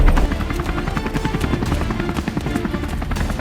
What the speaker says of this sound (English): The MH-60G helicopter dives down.